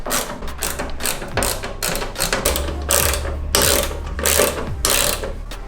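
Ratchet loosening 10 mm tailgate bolts on a 2016+ Toyota Tacoma TRD Off-Road, a steady run of rapid clicking pawl strokes in short bursts, close to the microphone with no talk.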